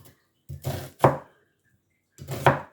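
Two large onions are roughly chopped with a knife on a board for slow-cooked Samoan taro leaves, giving three close, crisp cutting bursts with pauses between them and no talking.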